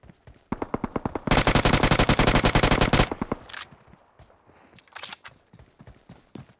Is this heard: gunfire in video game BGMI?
yes